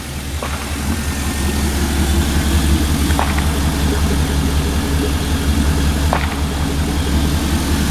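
An LS1 V8 swapped into a 1988 Chevrolet pickup idles steadily, a constant low rumble with a slight lope heard from close by near the exhaust, with a few faint clicks over it and no talk.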